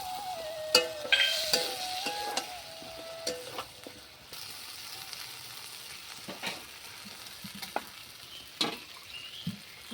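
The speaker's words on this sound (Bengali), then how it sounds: "সজনেটা দেওয়ার পর আরেকটু ভালো করে মশলার সঙ্গে ভালো করে এটা মিশিয়ে নিব" Drumsticks stirred into cooked spice masala in a pan give a soft, low sizzle under intermittent scraping and clinking of a spoon against the pan, with scattered sharp taps throughout.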